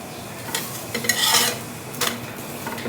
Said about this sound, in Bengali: পরোটা দিয়ে দিচ্ছি ঘি দিয়ে ভেজে দিচ্ছি